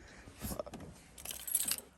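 A ring of keys jingles and clinks close by in two brief bursts, light metallic rattling against a quiet background.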